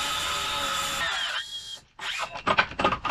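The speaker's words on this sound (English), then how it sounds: "let's rip a little strip off of this. This is a massive rip for a cordless saw" Cordless circular saw ripping a long strip off a gnarly-grained wooden board aboard a wooden boat, a loud steady whine that drops out briefly, then restarts with uneven, straining bursts.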